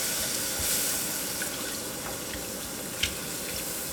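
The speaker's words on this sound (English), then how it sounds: "So now I'm gonna start adding some milk." Liquid runs steadily for a few seconds, a soft continuous pour of milk into a pan of mac and cheese on the stove, with a small clink near the end.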